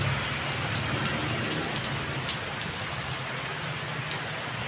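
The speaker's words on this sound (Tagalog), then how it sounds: "Siyempre, umuulan." Steady rain falling on a wet morning, a dense continuous patter on surfaces with occasional louder drips, heard alone without voices.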